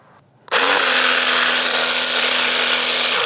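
An Okaoda XL775PRO cordless pressure washer starts with a sudden jump into a loud, continuous hissing spray at a 15-degree nozzle setting, with a steady motor hum underneath.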